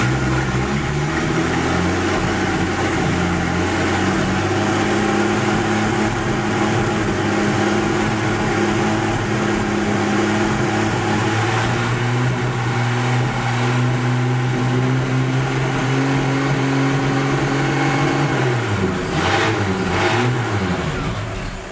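Jeep Willys engine idling after its ignition timing is set to 8 degrees, still somewhat cold, a steady close, loud mid-pitched idle hum that wavers and shifts near the end, with no one speaking.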